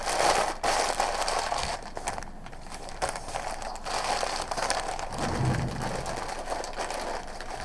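A sheet is crumpled and its edges folded in while a fish sculpture body base is shaped. Close, continuous crinkling and crunching carries on throughout, with no voices.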